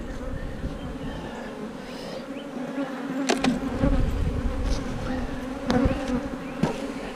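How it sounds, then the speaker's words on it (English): A steady, dense buzz of many honey bees fills the clip while two-frame mating nucs are loaded, with a few sharp knocks and clatters partway through. "Take these bees right here."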